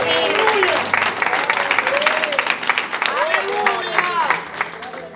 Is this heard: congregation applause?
yes